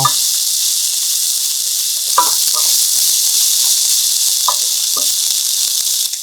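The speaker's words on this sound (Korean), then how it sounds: "그 다음 브로콜리, 양배추 넣고 숨이 살짝 죽을 때까지 볶아주세요." Broccoli and cabbage stir-frying in a hot pan give a steady, loud sizzle throughout, with a few scraping stirs of the spatula scattered over the hiss.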